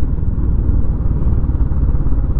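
A Royal Enfield Bullet Classic 350 BS6 motorcycle exhaust rumbles in a deep, continuous, loud idle-like drone with dense low thump and no talk.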